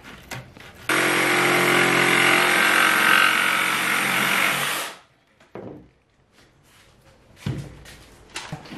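A power tool whines loudly and continuously for about four seconds while cutting out a DIY front splitter, then stops abruptly, followed by quieter handling clunks and knocks.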